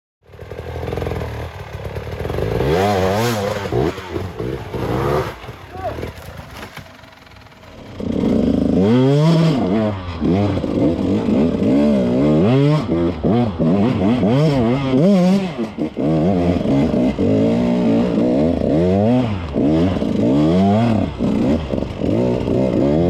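A KTM 150 two-stroke enduro motorcycle rides close by through tough terrain, loud and revving hard with rapid rising and falling pitch sweeps and a brief easing before it climbs again.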